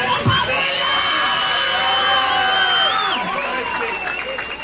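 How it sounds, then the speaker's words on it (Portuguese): A crowd at a rap battle bursts into loud cheering, whooping and applause, with shouted voices rising over continuous clapping close by. "Uma salva de palmas pro batalho"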